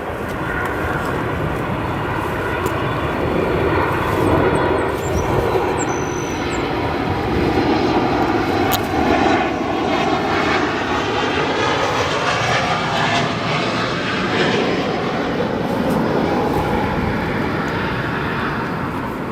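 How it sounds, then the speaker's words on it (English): United Boeing 737 MAX jet airliner landing at Chicago O'Hare, a loud, steady engine roar held throughout with a broad rushing texture and slowly shifting tone as the jet passes. "Nice landing there for that 737 MAX."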